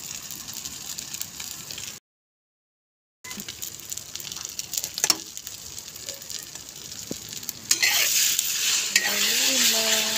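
Egg and vegetables are stirred in a frying pan, with a sizzling hiss under repeated scraping and clinks of a utensil against the pan. The frying grows louder and brighter toward the end, up close, and no one speaks.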